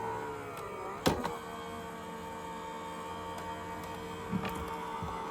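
A Sizzix Big Shot Switch Plus electronic die-cutting machine runs with a steady mechanical hum and whir, broken by a couple of short clicks and knocks.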